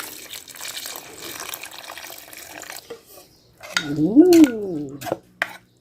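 Boiled fermented fish (pla ra) liquid poured into a pot, a close splashing pour with faint background noise before it and a brief rising tone during the pour.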